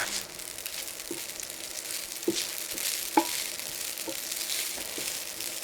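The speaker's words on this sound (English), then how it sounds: "That's why I add the noodles first and really give them a first sear before I add the ham." Noodles sear in a frying pan for a German noodle dish, a constant soft sizzle and crackle with a few faint utensil taps and scrapes, quiet and without talk.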